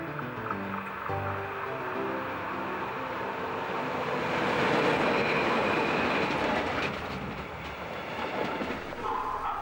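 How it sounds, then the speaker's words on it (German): A passenger train hauled by a class 143 electric locomotive rolls into Titisee station on the Höllentalbahn, a continuous near rumble of wheels and cars that swells midway, then eases with faint squeals and clatter as it slows. "Einfahrt in den Bahnhof."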